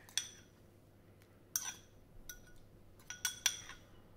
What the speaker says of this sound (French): je vais essayer de mettre les morceaux de tomates en mettant le moins d'huile possible